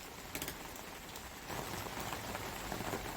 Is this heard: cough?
no